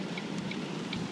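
Heavy rain pours steadily beside a roadside, a continuous broadband hiss with faint scattered drip ticks and a few soft tonal chirps, no voices.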